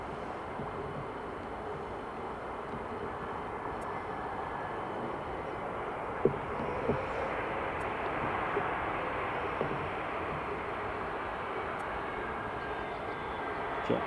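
A JetBlue airliner on final approach to land at Edinburgh Airport, its engines a steady, fairly distant broadband roar that holds evenly throughout with a few faint clicks on top.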